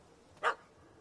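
A single short, sharp puppy bark in The Witcher 3: Hearts of Stone rings out once, fairly near, over a quiet background.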